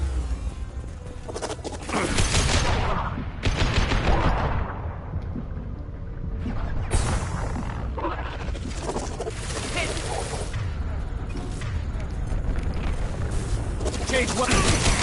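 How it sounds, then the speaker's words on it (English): Heavy, sustained gunfire in the video game Mass Effect 2, with dense overlapping bursts and booming impacts filling the whole stretch, while voices shout over the din. "Taking heavy fire!"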